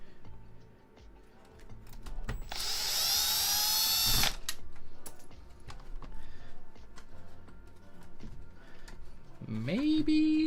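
Screws being removed during a tech teardown: a loud two-second whirring burst, steady clicks and ticks throughout, and a rising tonal whine near the end.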